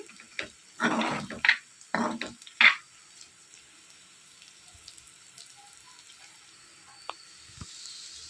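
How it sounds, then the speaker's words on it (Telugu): Chicken liver fry with chili powder and masala cooking in a pan, a few short bursts of sizzling near the start, then quiet simmering with faint scattered sounds. "మనం వేసిన కారం మసాలా సరుకులు అన్నీ కూడా ఈ లివర్కి పట్టి మంచి టేస్ట్ వచ్చేంత వరకు కొంచెం సేపు మగ్గించుకోవాలి"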